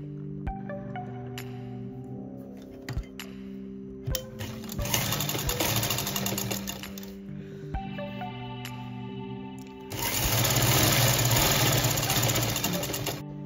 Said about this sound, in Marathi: इथे टीप घालून पूर्ण राऊंड आपल्याला दाब द्यायचा आहे